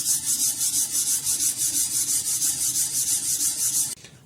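Knife edge drawn back and forth along a Hapstone convex rod sharpening adapter, giving a steady, rhythmic scraping rasp in even close strokes for about four seconds before stopping abruptly.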